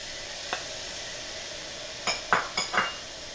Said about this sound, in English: I'm going to add in my chopped onion and garlic.